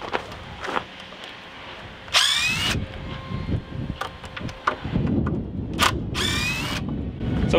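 Power tool rounding off the glued wooden corner of a bunk being built inside a boat, cutting to a radius set by a 5-inch disc; two loud bursts of high whining machining stand out over scattered knocks and workshop clatter.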